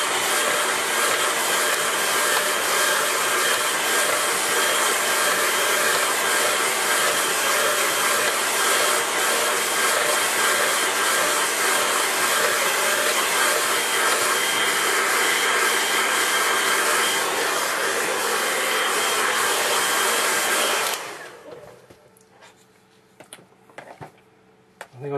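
A hair dryer runs close and loud to dry a watercolor landscape painting, a steady roaring whoosh held for about twenty seconds before it cuts off, leaving faint handling noises.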